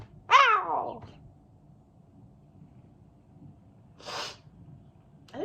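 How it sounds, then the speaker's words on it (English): Repeated sneezing from a person with a long bout of sneezes: one sharp, loud sneeze near the start, a quieter second burst a few seconds later and a third just beginning at the end, separated by near silence. "I've been sneezing for the past 3 hours"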